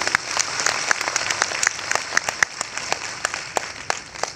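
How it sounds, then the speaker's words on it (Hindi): Audience applause fills a conference hall at a Modicare direct-selling event in Kolkata, a dense, steady patter of many hands clapping throughout with sharp individual claps standing out. "ये आपके लिए जबरदस्त तालियां बजाइए इसके लिए।"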